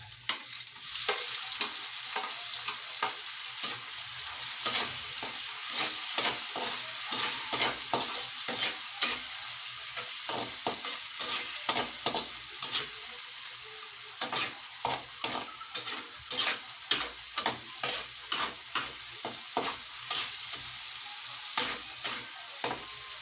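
Onion, tomato, chili and garlic sautéing in a pan, a continuous bright sizzle punctuated by rapid, regular spatula scrapes and taps that grow busier toward the end, close up with no one speaking.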